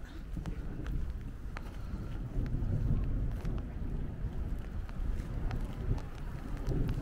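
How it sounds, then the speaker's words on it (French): A distant thunderstorm rumbles low and continuous at Yellowstone, a faint steady roll of thunder beneath light wind noise, heard outdoors without talking. "Par contre on entend très bien l'orage aussi."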